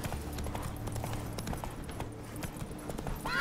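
Geralt's horse Roach from The Witcher 3 on PC, steady rhythmic clip-clop of hooves trotting at close range over a low rumbling game soundscape, continuing throughout.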